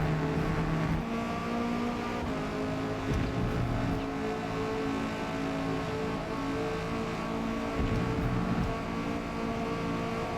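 A Lexus LFA race car in a racing video game roars past with a high-pitched revving engine, rising and falling as it passes amid the steady drone of other cars.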